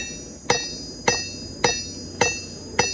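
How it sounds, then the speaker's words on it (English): Five sharp metallic ringing blows from a cross peen hammer on hot steel at an anvil while a blade is forged, evenly spaced about half a second apart, close and loud. "Yep, here we are back at the anvil. So I got my trusty cross peen."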